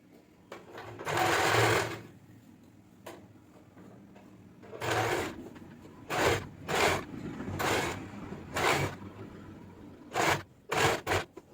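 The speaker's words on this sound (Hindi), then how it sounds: "इस टाइप से हम इस पर टॉप स्टिच लगाएंगे यहाँ पे।" A sewing machine runs in short bursts while top stitching a lined fabric garment, each whirring run lasting a second or so with quiet pauses between, close and loud without speech.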